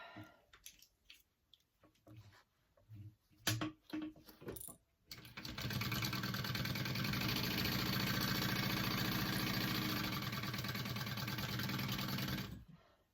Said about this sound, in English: we're going to go ahead and sew that up